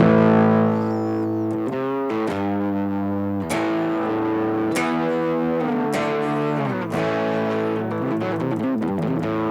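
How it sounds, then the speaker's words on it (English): An electric guitar played through an overdrive pedal gives a gritty, 70s classic rock tone, with loud, continuous chords and riffs on their own. "So this is just the straight overdrive tone."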